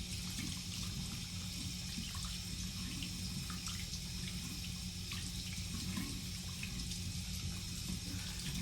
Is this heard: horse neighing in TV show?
no